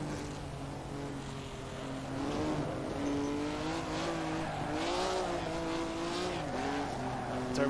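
A lively historic racing car driven in tribute to Stirling Moss, its engine note rising and falling continuously as it accelerates hard, with a faint squeal from the tyres running beneath the steady, close engine roar.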